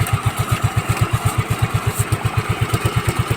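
A Mio Soulty 125 motorcycle engine idles unrevved, a steady fast low thumping pulse that is loud and close with a constant mechanical hiss, and no voices.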